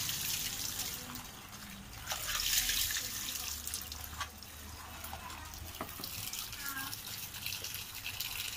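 Water runs from an outdoor pipe tap while something is rinsed to clear out lime, a splashing, uneven flow with brief spatters and a faint voice in the background.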